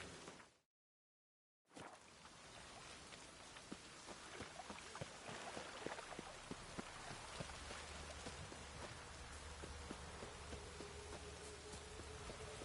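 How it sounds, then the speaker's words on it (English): Steady rain falls in The Witcher 3, a soft hiss of drops that starts after a brief silence and holds an even level throughout. "Witches have conjured rain again."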